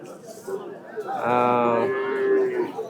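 A bull or heifer at a cattle market selling Deshi and Sahiwal breeds lets out one long, loud, close moo, with people chattering around it.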